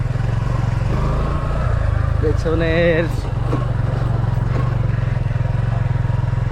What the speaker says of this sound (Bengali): এটা আসলে আমি ক্ষেতের মধ্যে দিয়ে বাইক চালাচ্ছি